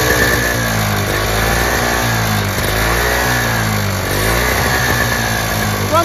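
A Toro CCR2450 single-stage snowblower engine runs loud and close on choke, a steady, throbbing small-engine drone that surges unevenly.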